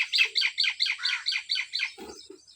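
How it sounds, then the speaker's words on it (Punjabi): Small birds in village trees, a quick run of about eight loud, close chirps in even rhythm, followed by a couple of softer lower calls. "ਪਰਿੰਦੇ ਜਿਹੜੇ ਨੇ ਬੜੀਆਂ ਆਵਾਜ਼ਾਂ ਦਿੰਦੇ ਨੇ ਕੋਇਲ ਤੇ ਕਾਂ ਤੇ ਚਿੜੀਆਂ"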